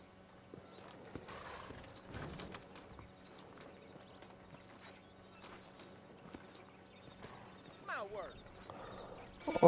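Horse hooves clip-clopping and a whinny in the Red Dead Redemption video game, faint hoofbeats under game sounds with a sharper neigh near the end, while a player talks over it.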